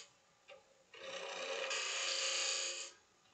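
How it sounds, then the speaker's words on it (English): A scraper rasps against the inner walls of a wooden finger pot spinning on a lathe, a steady close scraping that swells and holds for about two seconds before easing off, with a brief tap just before it. "it'll be time to bring in some type of scraper at this point. I am going to clean up the walls a little bit"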